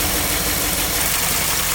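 The engine of a 1959 Mercury Monterey, revived after sitting for a decade, runs steadily at a loud close-up idle, a dense continuous rumble with no clear variation and no voices.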